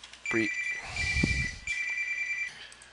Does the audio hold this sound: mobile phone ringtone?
yes